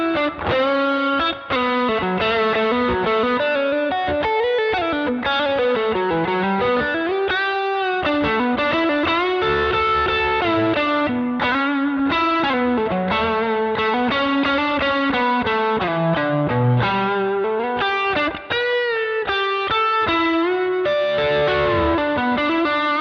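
A distorted electric guitar with chorus-style effects plays a fast, winding lead exercise on its own with no backing track: a continuous, loud stream of bending, sliding notes that runs without pause.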